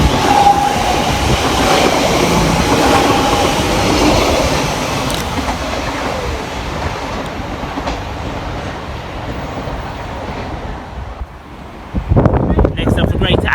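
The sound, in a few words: Class 345 train 345007 leaving station, Shenfield to Heathrow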